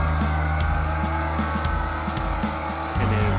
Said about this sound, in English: And then drift through this corner.